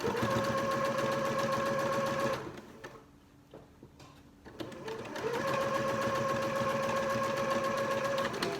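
A sewing machine stitches along the outer seam of a square handbag, a loud, fast rhythmic whirring that stops for about two seconds mid-way, then starts again and runs steadily to the end.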